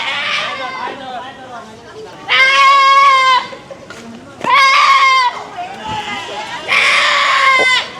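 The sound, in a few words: goat bleating after getting loose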